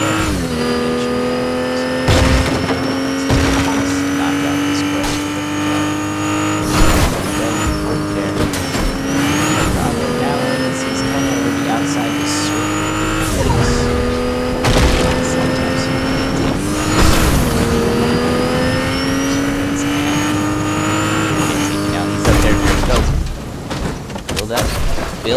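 Car in the Fortnite video game driving around with a steady engine drone, repeated revs and sharp skidding bursts over about twenty-five seconds, with game effects and possible voice chat mixed in.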